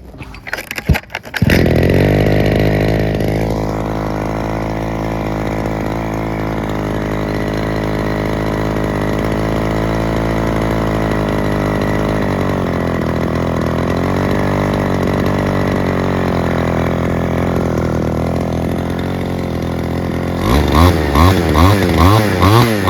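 A Japanese-made Robin NB411 brush cutter engine starts after a few pulls, then idles loud and close for a long stretch before revving up sharply near the end, with no talk.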